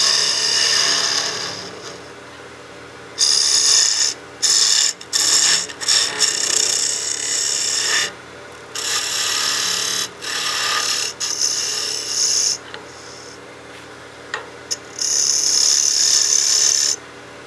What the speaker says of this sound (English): that peel cut makes quick work of the wood